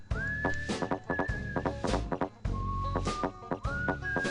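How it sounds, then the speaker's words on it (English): Melodic whistling of a tune from The Neverhood video game, sliding and held notes over a rhythmic musical backing, moderately quiet and steady throughout. "here's that whistling song"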